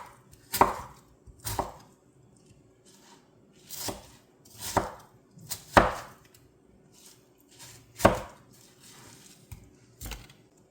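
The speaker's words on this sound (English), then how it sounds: "You just want to shred these up or cut them real small." Tomatoes being chopped small with a knife on a cutting board, a series of sharp, separate thuds landing at an irregular pace, close and clear, with a faint steady hum underneath and no talking.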